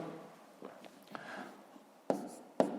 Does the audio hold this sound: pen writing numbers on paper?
yes